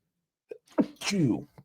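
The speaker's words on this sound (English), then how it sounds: "Oh, my goodness, sneeze." A sharp, close sneeze bursts out after a quick inhale, followed by a short breath.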